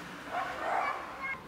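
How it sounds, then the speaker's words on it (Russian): A dog gives faint, distant yips and whimpering barks over steady outdoor background noise. "О, там собака."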